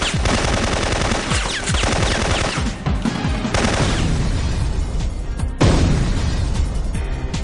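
Loud, sustained bursts of heavy gunfire from a powerful, low-ammo weapon in a shooter video game, with rapid booming shots and crashes running almost continuously, briefly dropping out before resuming.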